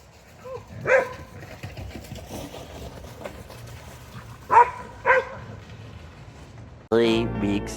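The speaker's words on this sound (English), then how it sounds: "Dog doesn't mind it." A dog outdoors in winter gives a few scattered barks at uneven intervals over a low engine-like rumble, a voice breaking in near the end.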